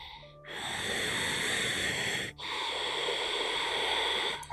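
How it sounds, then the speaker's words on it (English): Pranayama breathing, with slow, audible breaths drawn into and pushed out of the chest. A long, hissing, wheezy inhale is followed after a short pause by an equally long, breathy exhale, close and alone. "Breathing up to your chest and exhaling out of your chest."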